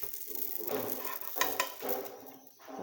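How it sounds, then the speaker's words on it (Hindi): Shawarma bread heats in a pan, cooked on both sides, giving a soft sizzle with scraping and stirring sounds, fairly quiet and close. "तो इसी तरीके से हम अपनी सारी ब्रेड को गरम कर लेते हैं, थोड़ा सा कुक कर लेते हैं दोनों साइडों से।"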